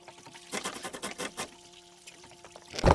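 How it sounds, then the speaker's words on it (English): Water draining and trickling out of a boat hull as the stern is lifted and the craft rocked, with uneven splashy pours in bursts and a louder gush at the end, fairly close. "See, you've got more water coming out now."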